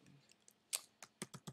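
A computer mouse clicking while navigating a Weebly website editor: a quiet series of sharp, close clicks, one distinct tap followed by several quick ones near the end, with no talking.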